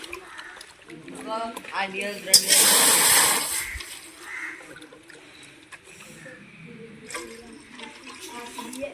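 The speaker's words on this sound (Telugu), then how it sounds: "ఇందులో మనం రెండు లోటాలు నీళ్ళు అయితే పోసుకోవాలి" Two small pots of water go into a cooking pot for raw jackfruit biryani, making a loud splashing pour of about a second. Someone talks before and after it.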